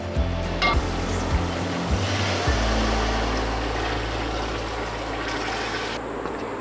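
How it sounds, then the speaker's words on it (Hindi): Chicken yakhni stock poured into a pot of browned pulao base, a steady rushing, gurgling liquid flow after a few clinks at the start, filling for several seconds at close range with no talk. "अब हम इसमें अपनी यखनी ऐड करेंगे।"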